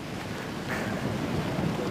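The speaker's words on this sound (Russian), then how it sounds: "Сильный ветер, жутко." Strong wind buffets the microphone at the seaside in Crimea's Tatarskaya Bay near Kazantip, a loud continuous roar with surf-like rushing that swells slightly partway through.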